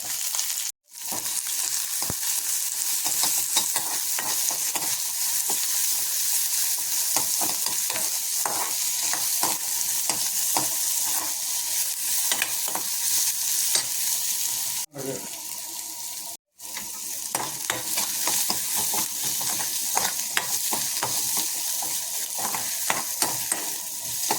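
Dried red chillies and onion sauté in a pan with a continuous close, loud sizzle and crackle, broken by brief pauses and light stirring scrapes.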